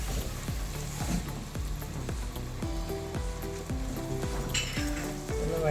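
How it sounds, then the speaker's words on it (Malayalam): Loud, steady sizzling and crackling as boiling water hits hot frying masala in a pan for papaya sambar, with bubbling underneath and no voices. "ഇനി ഇതിലേക്ക് തിളച്ച വെള്ളം ഒഴിക്കാം"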